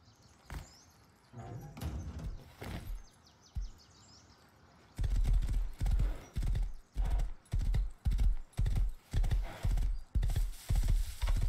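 A horse in the video game Rust, with a few scattered hoof clops and a short whinny at first, then a steady, loud galloping clip-clop in even rhythm with no talking.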